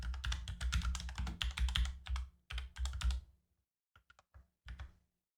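Someone types a name on a computer keyboard, quick bursts of close, crisp key taps with brief pauses, then a few scattered final keystrokes before falling silent.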